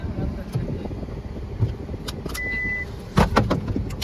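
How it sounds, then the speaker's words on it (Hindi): A car that has just been started idles in a shaded parking spot outside an SBI bank in Meerut: a low, steady engine hum with a few clicks and rustles, and voices in the background. "गाड़ी स्टार्ट हो चुकी है"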